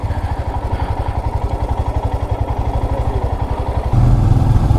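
A motorcycle idles at a mountain checkpoint on a ride through Himachal, its engine thumping in a fast, even rhythm close by, then growling louder and deeper for the last second as the throttle opens slightly.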